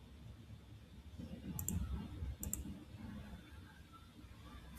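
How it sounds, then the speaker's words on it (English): Two quick pairs of mouse clicks, faint and close, sound over a low background hum while task priority is being set. "I'll click twice to assign it to priority 2"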